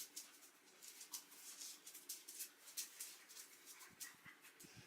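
Two dogs play fighting indoors at home, giving faint, scattered high yips, whimpers and squeaky vocal bursts with a few soft thumps, fairly quiet and without speech.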